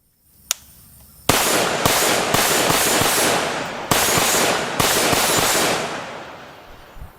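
A CZ 805 Bren short-barreled rifle with an 11-inch barrel and muzzle brake fires outdoors: one sharp shot, then a fast string of loud cracks over a dense, sustained roar.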